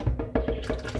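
Water swished and poured while rinsing out a blender glass in a kitchen, with a short splashing, sloshing burst close by during mango drink preparation.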